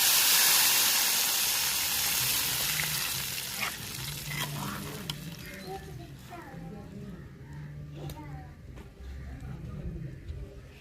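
Loud hissing sizzle of spices tempering in hot oil for fish curry, fading gradually as the crackling continues with a few scattered pops.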